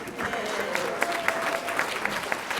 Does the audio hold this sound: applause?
yes